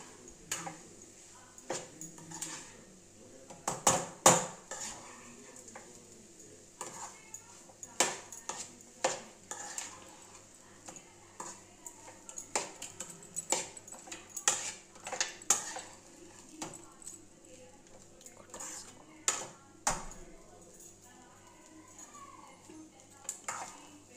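A utensil scrapes and clinks against a pot as rice is stirred with curry leaf powder, irregular metallic taps and scrapes, close and fairly quiet, with no talking.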